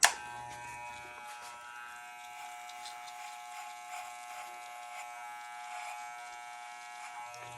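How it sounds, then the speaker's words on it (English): Taper 2000 hair clippers with a 00 guard buzzing steadily through a haircut, a close, thin electric hum that starts after a brief knock and runs on without talk. "This is the fourth cut I've given with the taper 2000."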